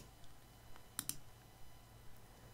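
A computer mouse clicks in craft-cutter design software, two quick faint clicks in close succession in a quiet room.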